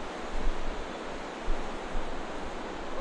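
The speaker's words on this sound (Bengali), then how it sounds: "অনেক বেশি স্রোত, অনেক, আজকের স্রোতটা একটু অনেক বেশি।" Strong water current rushes past the Mohonpur rubber dam, a continuous broadband roar with gentle swells in level, heard alone without voices.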